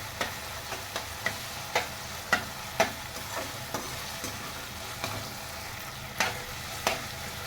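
Chopped tomato and onion fry together in a pan for beetroot pulao, giving a steady moderate sizzle with regular scraping stir strokes about every half second, and no talking.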